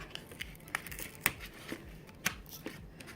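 Hands pry open a damp, soft cardboard cake box, making faint crinkles, small tearing sounds and a few sharper snaps, all close and quiet.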